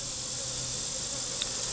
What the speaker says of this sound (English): We got enough bees in there